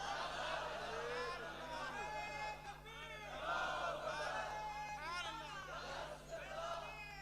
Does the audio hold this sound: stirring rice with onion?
no